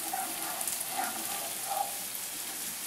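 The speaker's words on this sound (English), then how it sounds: "I'll saute that for about 3 minutes." Chopped red pepper sautéing in a pan during a home cooking contest, a steady close hiss of frying with faint soft stirring bumps and no voices.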